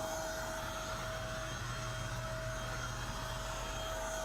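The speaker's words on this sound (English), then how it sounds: "So you can actually watch this and see that pump sucking air out of it." Electric pump drawing air out of an inflatable couch inside a Newmar Mountain Aire 4579 RV, a steady, even whirring hum with a faint whine, running alone at moderate volume.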